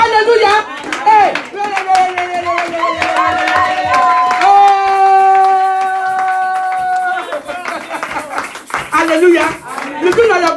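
A church congregation claps and cheers in acclaim, steady rhythmic clapping under sustained sung or held tones, with voices calling out loudly over the crowd throughout.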